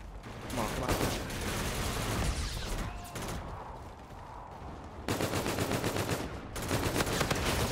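Assault rifle gunfire in the shooter game Infinite Warfare, sustained rapid automatic bursts that run loud and dense through the whole stretch, with brief gaps between strings of shots.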